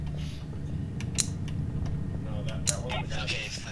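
A door creaks open in the video game Nightmare House 2, a short, faint mechanical creak with small clicks lasting a few seconds under quiet talk.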